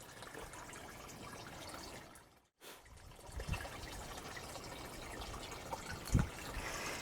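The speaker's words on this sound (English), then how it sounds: "You can see the water pumping up into the main units here" Water pumping up through a homemade PVC pipe hydroponics system, a soft steady trickle and gurgle with a brief dropout and a couple of louder splashes.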